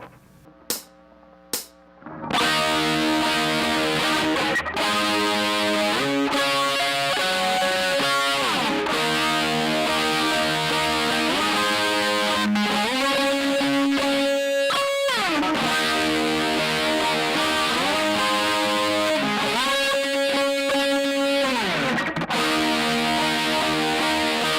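Heavily distorted electric guitar plays a riff, loud and continuous, with chugging power chords and sustained notes after a few sharp picked hits at the start.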